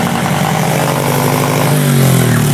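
A motorcycle engine running without a battery is revved and held hard against its RPM limit, giving a loud, close, continuous buzzing drone that sputters and rises in pitch near the end.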